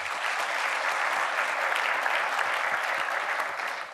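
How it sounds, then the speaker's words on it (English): An audience at a university lecture series event applauds the executive director with steady, even clapping. It holds at a constant level throughout and is heard from within the hall with no voices. "What about a round of applause for our executive director?"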